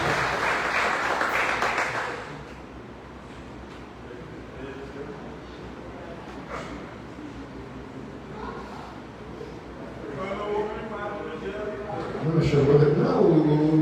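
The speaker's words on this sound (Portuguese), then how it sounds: "Um aplauso para eles e obrigado." A church congregation applauding at a Sunday evening family service, with a full burst of clapping for about two seconds that quickly gives way to talking and later voices.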